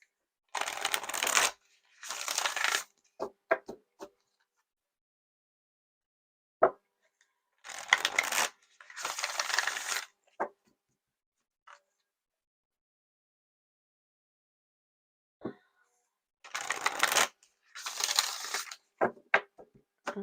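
Tarot cards riffled and shuffled close by in several short bursts of crisp, papery flutter, separated by quiet gaps and a few soft taps.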